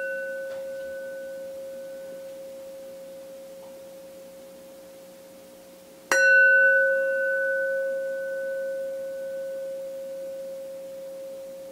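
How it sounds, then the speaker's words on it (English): A meditation bell rings once mid-clip, following the lingering hum of an earlier strike, then its pure tone slowly fades in a quiet room. "when the bell rings, doing your best to listen to the tones"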